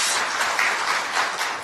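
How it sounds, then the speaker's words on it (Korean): Brief burst of dense applause from the audience at a Democratic Party debate forum on the candlelight revolution. The clapping is steady and fills the moment, with no voices heard over it. "박수 주세요, 이럴 때."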